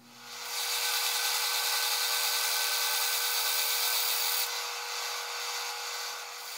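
A wood lathe roughs out the outside of a natural edge bowl, giving a loud, continuous broadband hiss of the tool cutting the spinning blank, with a brief low hum at the start.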